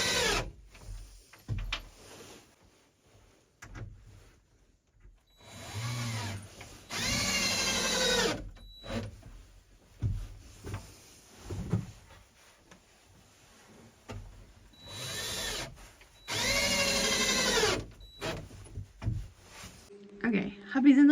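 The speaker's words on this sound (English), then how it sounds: "I'm using 1 1/4 inch screws to screw the 1/2 inch plywood onto the 2x4s" Several bursts of a power drill whirring as it drives 1 1/4 inch screws through 1/2 inch plywood into 2x4s, each a few seconds long, separated by pauses with some talking between.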